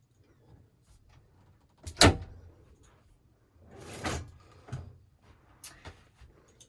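The interior fridge door on a Jeanneau Cap Camarat 10.5 WA boat clunks open sharply, followed by softer rattles and thuds as it is handled, close by in an otherwise quiet cabin.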